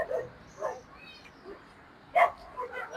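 A dog on a street in Antipolo gives several short barks and yips scattered between pauses, close and fairly loud, while people talk around it.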